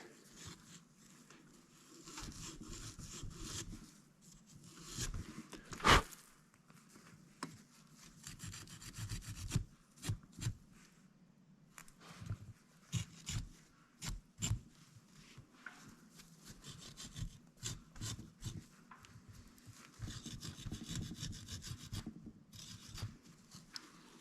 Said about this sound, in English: So just lightly with a Scotch-Brite. Just want to get the little bit of carbon off there.